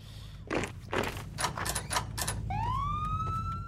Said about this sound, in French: Mais les sirènes.